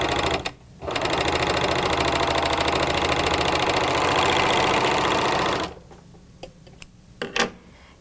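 Speedylock 299 serger stitching lightweight folded fabric: a loud, fast mechanical whirring run of about five seconds, followed by a few quieter clicks and handling knocks.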